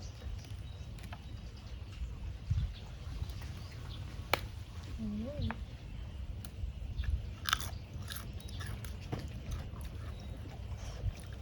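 Family eating a Thai spicy shrimp salad outdoors, with soft biting and chewing crunches scattered under a steady background of ambient noise.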